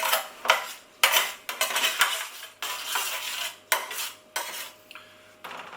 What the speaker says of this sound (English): give the tomatoes a good stir